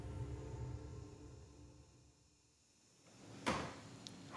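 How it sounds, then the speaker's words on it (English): A door slams inside an old army fort, one sharp, loud knock after a quiet stretch of low background hum, followed by a fainter second knock. "You can actually hear a door slam."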